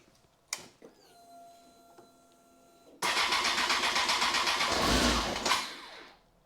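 A Honda Fireblade motorcycle engine cranks and catches at about three seconds, then roars loudly and steadily at close range, with a few faint clicks and whirs before it fires.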